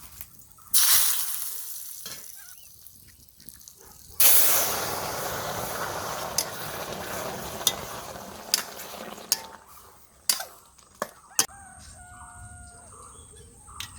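Cumin seeds hit hot oil in a kitchen pan, giving a sudden loud hiss that settles into steady sizzling, followed by a second burst of frying and scattered clinks of stirring, with birds chirping faintly nearby.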